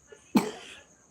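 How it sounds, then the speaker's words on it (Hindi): A single sharp cough from one person, brief and close, with a short breathy tail fading out in a quiet room. "अब ये देख, खांसी चल रही है, देख।"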